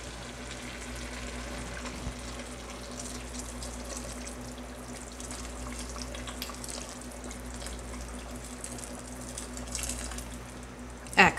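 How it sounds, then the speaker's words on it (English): Boiling water poured into a pot of papaya leaf and lamb stew, a steady running, sizzling stream that continues evenly for several seconds at moderate level with no talk. "And now what I do is add some boiling water"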